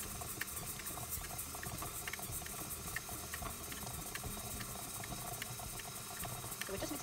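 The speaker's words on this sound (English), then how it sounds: "we're just gonna mix it on low" An electric mixer running on low speed through muffin batter, a steady whirring hum with faint rhythmic ticking and sloshing, close and continuous, with no voices.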